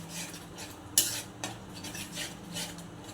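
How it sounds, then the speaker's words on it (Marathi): Spice masala with tomato purée and curd sautéed in oil in a pan, a spoon scraping and stirring with metallic clinks against the pan, one sharp knock, faint sizzle beneath, close and fairly quiet. "मसाले तेल सुटेपर्यंत परतून घेऊ"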